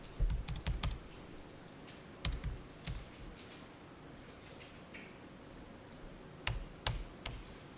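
Keys on a computer keyboard are typed to enter a date, in a few short clusters of close, crisp clicks separated by quiet pauses, with no speech.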